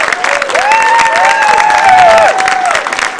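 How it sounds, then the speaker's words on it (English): A crowd at a Maryland Women's Hall of Fame event claps steadily, with whoops and rising cheers riding over the applause for about three seconds. "Can we give her a big round of applause for all of her hard work?"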